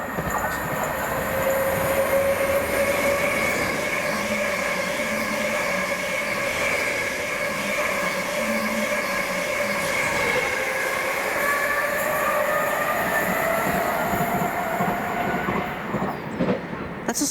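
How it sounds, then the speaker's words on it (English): A Stansted Express train rolls through a Lea Valley line station in a long, continuous rumble with squealing wheels and a high whine, steady and fairly close for the whole stretch. "That's a Stansted Express."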